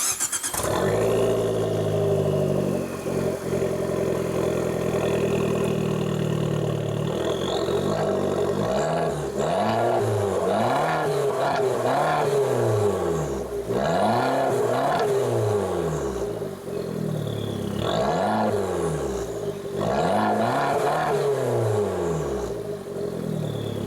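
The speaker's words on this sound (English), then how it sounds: "I know I said earlier that I wish it made some more turbo noise, and of course now I hope that you all could hear it." A turbocharged 2016 Fiat 500 Abarth engine revs hard while driving, rising and falling in repeated loud sweeps with a steady roar underneath, heard from close by and without speech.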